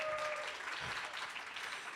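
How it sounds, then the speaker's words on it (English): An award show audience applauds, a faint, steady patter of clapping from a crowd held at a distance for a brief moment. "Give yourself a round of applause"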